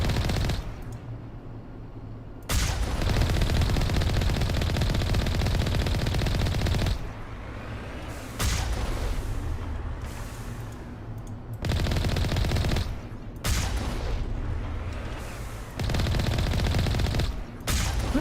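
Sustained automatic gunfire from a Mass Effect firefight rattles loudly in long bursts separated by short pauses, dense and close throughout.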